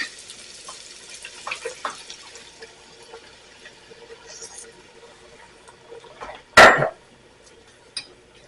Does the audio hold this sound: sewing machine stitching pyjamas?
no